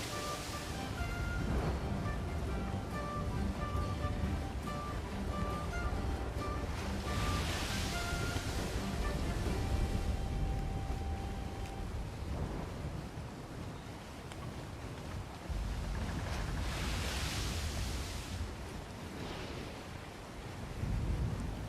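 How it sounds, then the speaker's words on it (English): Ocean waves and wind wash continuously in the video game Ark: Genesis while a ship is sailed, with surging swells and steady rushing noise, no talking. "Waves don't help."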